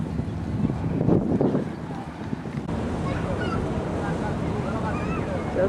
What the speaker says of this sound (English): This is not a ferry, this is a ship.